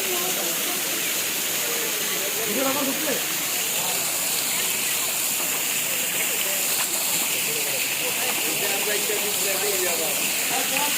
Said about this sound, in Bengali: ঝর্নাটা প্রাকৃতিক ঝর্ণা অনেক বছর ধরে শত শত বছর ধরে অবিরত জোরে পড়ছে